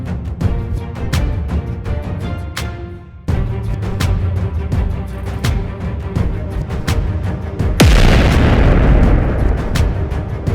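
Heavy booming blasts of cannon fire in the anime One Piece, loud and continuous, with a sharp, bright burst near the end over a dense rumbling background.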